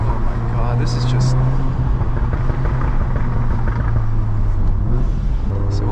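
A VW Golf R Mk7.5 with a loud straight-piped exhaust driving on Boston streets, a heavy droning engine rumble heard from inside the car, steady and close, with a couple of brief high crackles.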